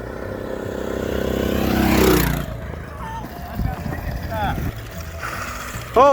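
An Arctic Cat minibike engine revs and climbs in pitch as its clutch engages, loud and close for about two seconds, then drops away into rougher running and shifting noise, with a brief sharp burst at the very end.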